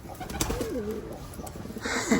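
Pigeons in a home loft coo softly and close by, a male giving a couple of rolling, throaty coos over faint background noise.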